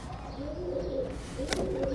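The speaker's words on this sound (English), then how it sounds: "I'm legit being attacked by pigeons." Pigeons coo close by in a steady low murmur, with one brief flap-like burst partway through and no talking.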